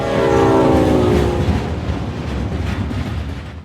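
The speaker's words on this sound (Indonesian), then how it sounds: "Mereka berangkat menggunakan kereta menuju stasiun Porikeni." A train rumbles past close by, its horn sounding at first, then fading into a steady rolling clatter of wheels on the rails.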